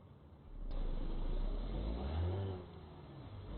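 A truck engine in American Truck Simulator revs up loudly, holding a rising, throaty drone before easing back to a steadier idle hum.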